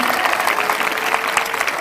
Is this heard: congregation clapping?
yes